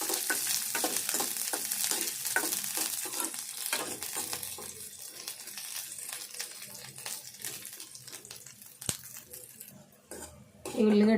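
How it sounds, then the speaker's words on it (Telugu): Onion pieces frying in a pan for bitter gourd masala, a steady sizzle with repeated scraping and stirring of a utensil against the pan, close and continuous, ending with a louder clatter. "ఈ ఉల్లిగడ్డ ముక్కలు ఇట్లా దూరగా వేపుకోవాలి."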